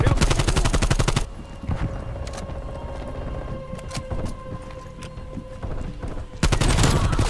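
Rapid bursts of AK-74u automatic fire in a video game ring out loud and close at the start and end, with scattered single shots and softer game effects between them.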